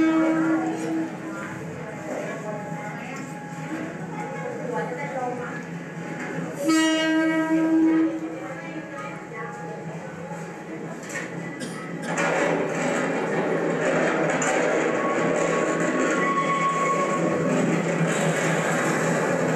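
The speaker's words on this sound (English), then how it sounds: "When the train is gone, this is in Thailand" A train passes by in Thailand, with a low rumble and clatter of rail cars, a brief horn-like tonal blast partway through, and a louder surge of passing noise toward the end; no speech.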